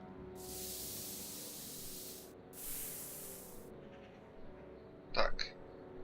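A spray can sprays paint in a video game, Back to the Future: two long, loud hissing bursts close together, then quieter sounds and a short clatter over a low background.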